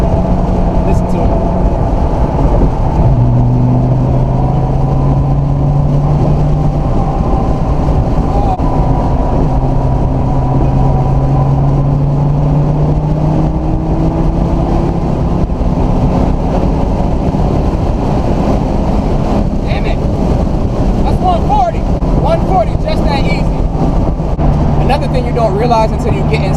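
A Dodge Viper SRT-10's V10 engine pulls hard in fourth gear across a bridge, heard from inside the car as a loud, continuous drone whose pitch climbs in steps. Someone talks over it throughout.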